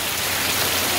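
Heavy first monsoon rain pours down steadily in a Konkan village, a dense, continuous hiss of drops on surfaces with no break and no voices, close and loud throughout.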